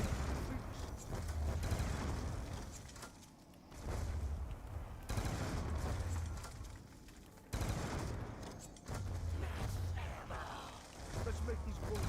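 Bursts of gunfire in the Call of Duty zombies map Mob of the Dead, heavy repeated volleys in three or four loud clusters with brief gaps, under game voice lines.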